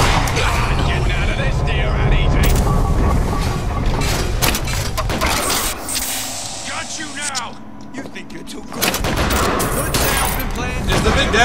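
Gunfire in the BioShock Infinite: Burial at Sea video game, loud dense bursts of shots and a clattering fusillade with game noise, easing briefly midway before resuming.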